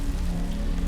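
Timefall rain falling in Death Stranding 2: On The Beach, a steady hiss of rain on surfaces with a low rumbling bed, continuous and moderately loud with no talking.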